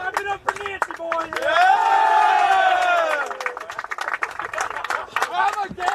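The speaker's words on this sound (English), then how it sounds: "Hey, clap it up for Nancy, boys!" Crowd at a women's college soccer game cheering and clapping, with a sustained rising whoop swelling in the middle amid scattered claps and shouts, voices chattering around it.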